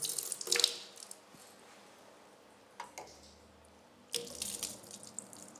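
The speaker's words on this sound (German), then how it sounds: "Die Spindel können wir in dem Fall auch, da die Probe kalt ist, auch mit der Probe abspülen." Cold beer wort sample poured to rinse a brewing hydrometer, giving brief splashing trickles near the start and again near the end, separated by a quiet stretch with a faint drip.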